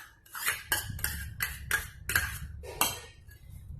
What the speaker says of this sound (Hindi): 250 ग्राम मावा है ये, इसको कद्दूकस कर लेना है मावे को